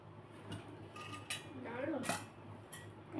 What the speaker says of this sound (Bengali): ছোট্ট একটা পিতলের কেটলি